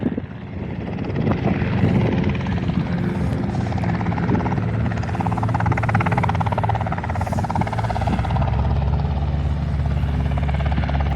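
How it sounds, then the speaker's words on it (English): A Cessna C-172 light propeller plane doing a touch and go on an airport runway on a windy day, a steady loud engine drone with wind rumble holding for about eleven seconds, no talking. "Touch and go on the takeoff and landing runway."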